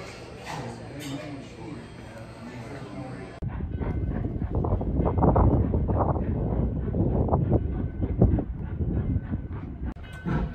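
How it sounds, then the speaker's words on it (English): Wind buffets the microphone at first, then a tourist train between Carson City and Virginia City, Nevada rumbles and clatters along the rails nearby, loud and continuous, with voices faintly underneath. "we're about to get back on the train right now"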